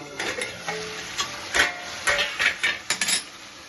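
A spoon scrapes and clinks around a pot of rajma kidney bean curry on medium flame, in irregular stirring strokes with soft clatter, close and alone.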